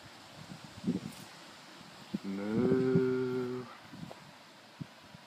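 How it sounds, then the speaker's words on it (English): A cow moos once in a long, loud, drawn-out call out in an open field, with wind and rustling around it. "just close to the cows."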